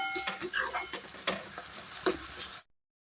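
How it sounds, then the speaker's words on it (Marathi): Onions fry in oil in a pan, giving a soft sizzle broken by a few stirring scrapes. It stops abruptly after a couple of seconds. "मस्त भाजला गेलेला आहे तेलामध्ये"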